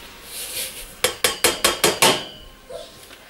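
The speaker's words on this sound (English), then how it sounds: "you are basically just going to mix all these things into the casserole" Coconut cookie ingredients get mixed in a casserole dish, heard as six sharp, evenly spaced clinks of a utensil striking the dish in quick succession, fairly close, followed by a softer knock.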